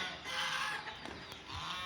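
Desi hens kept in a coop on a poultry farm cluck in short, soft bursts over a steady background hiss.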